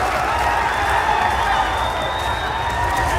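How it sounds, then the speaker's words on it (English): Tournament crowd at a Street Fighter IV match in a big esports event hall, a steady dense roar of cheering and clapping that continues without a break, with commentary running over it. "The crowd getting hyped."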